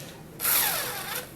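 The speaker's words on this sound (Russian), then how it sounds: "Разбираются они с помощью Torx 15 биты." Power screwdriver fitted with a Torx 15 bit, unscrewing an Edifier S1000DB speaker cabinet: a short, close, high-pitched motor whir that starts abruptly and holds for about a second.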